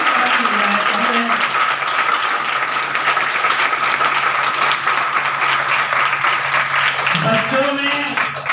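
An audience at a chaturmas satsang at an ashram claps continuously for several seconds, a dense, loud round of applause with a voice briefly heard over it.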